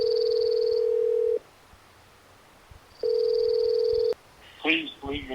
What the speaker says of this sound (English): So I'm going to call him up